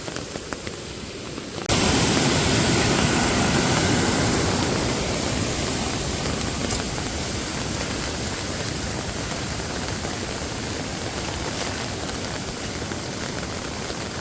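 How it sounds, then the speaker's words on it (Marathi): Heavy monsoon rain near the Savatsada waterfall source: a dense, even roaring hiss that starts abruptly after a quieter moment and then holds steady and loud. "आता पाऊसच तसा होतो आहे सकाळपासून"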